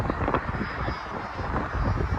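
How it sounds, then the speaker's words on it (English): A Boeing 767 approaching Heathrow Airport gives off a broad, steady jet roar, fairly loud and sustained, with wind buffeting and faint rustle from the spotting position near trees. "This is Boeing 767, I believe, coming through."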